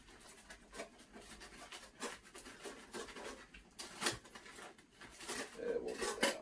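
Metal camping cookware clinks and scrapes as pieces are nested into a pot, a close series of irregular rattles and knocks that grows busier toward the end, with no talk.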